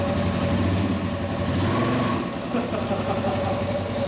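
Suzuki DRZ400S motorcycle engine fitted with a Magura hydraulic clutch and Rekluse EXP 3.0 clutch, idling close by with a rough, knocking single-cylinder chug and a slight dip midway.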